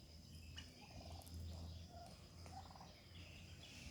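Turkeys gobble repeatedly in bursts of rapid, warbling calls, fairly close, over a steady low background hum.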